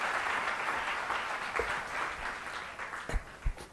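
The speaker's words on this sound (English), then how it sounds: "A round of applause for everybody." An audience applauds steadily at an ISKCON Bangalore Book Marathon closing ceremony, a dense wash of many hands from a full hall that fades slightly near the end, with a few louder thumps close by.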